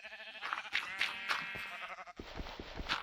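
A sheep in Minecraft bleats in several wavering calls, moderately close, followed by a few soft blocky thumps.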